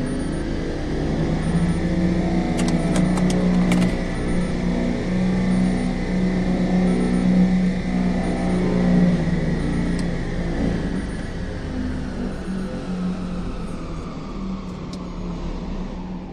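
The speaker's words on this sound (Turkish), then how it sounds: "Fişini takıyoruz, lifte kaldırıyoruz bir daha." An electric car lift in a workshop raises a Renault Megane 4. A steady mechanical drone with a low hum holds at an even loudness throughout, with a few faint clicks and no speech.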